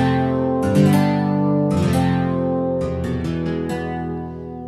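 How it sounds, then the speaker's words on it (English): Acoustic guitar patch on a Korg Kross 2 keyboard, strummed chords with sustained harmonic tones, three or four attacks spaced across the stretch, clear and steady at moderate level with no voices. "So we're looking for a nice acoustic guitar sound, and I found one."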